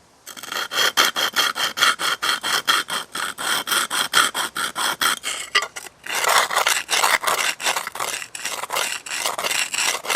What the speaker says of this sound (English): You can actually just rub this back and forth on the concrete and sand it down.